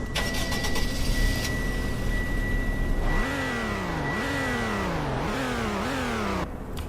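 A sports car engine in Roblox Greenville idles, then revs repeatedly in rising surges through several gear changes, loud and close, with no talking.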